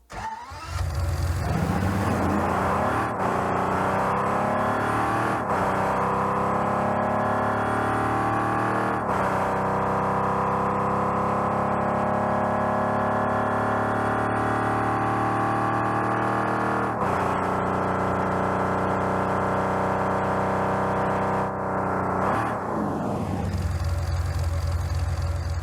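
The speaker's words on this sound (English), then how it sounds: "Here's a full demo of the engine audio." The Maestro car's engine in Rocket League starts and revs through repeated rising gear sweeps, a loud, continuous mid-pitched engine tone climbing and dropping before cutting back to idle.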